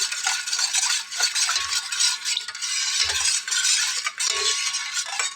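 A spoon stirs a cornflour Eid dessert mixture after cardamom powder goes in, a close scraping swirl against the pot in continuous strokes with a few soft low knocks.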